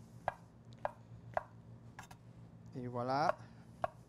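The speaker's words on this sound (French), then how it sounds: "On les coupe en deux. On fait des beaux petits quartiers." A kitchen knife cuts mushrooms into quarters on a cutting board, giving crisp, evenly spaced chops about every half second. A short spoken phrase comes in near the end.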